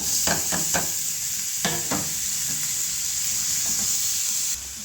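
Carrots go into a sizzling pan of onions and curry leaves, a loud close hiss of frying with a quick series of spatula scrapes and taps early on, then steady sizzling that drops slightly at the end.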